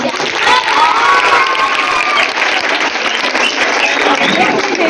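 A school hall audience cheers a quiz team at a student couplet competition with loud, continuous clapping, mixed with crowd noise and children's shouts.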